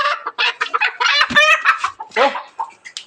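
Loud, close clucking of a domestic hen in quick, uneven bursts, chattering repeatedly with short pauses.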